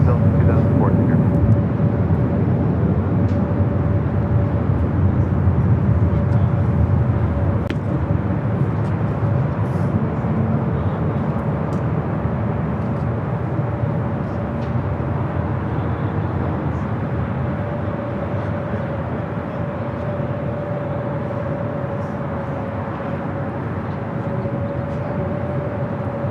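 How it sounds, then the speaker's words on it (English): A Delta airliner departing from LAX produces a steady, broad jet roar that holds throughout and eases slightly toward the end. "Departure Delta 2014 here."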